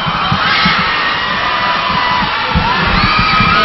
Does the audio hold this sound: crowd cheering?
yes